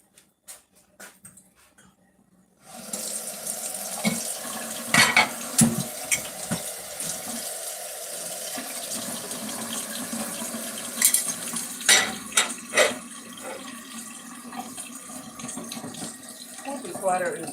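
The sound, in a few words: hot water running from a kitchen tap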